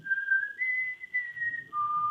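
A person whistles a short, clear tune of three sustained notes, stepping up and then down in pitch, heard alone and fairly quiet.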